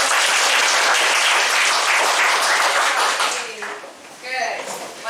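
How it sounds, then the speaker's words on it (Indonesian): Sustained applause and clapping from a classroom audience, loud and dense at first, then thinning out and fading toward the end. "Berikan aplaus untuk"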